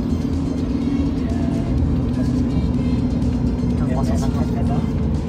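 Supercharged Lotus Evora S 350 accelerating on the autobahn, a steady loud engine drone and road roar from inside the cabin, with people talking over it.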